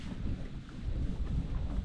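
Strong wind gusts across an open wooden bangka boat under repair, buffeting the microphone with a deep, uneven rumble that swells and dips through the short stretch.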